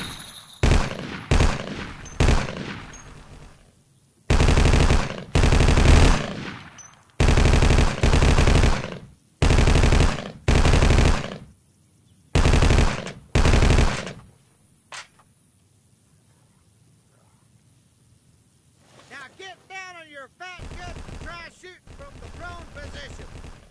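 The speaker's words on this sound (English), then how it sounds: "As soon as the target on your range goes up, shoot it. Fire at will." Automatic gunfire on a shooting range in the Vietcong video game, with loud, close bursts of rapid shots repeating for about fourteen seconds, followed by quieter ambient game sounds.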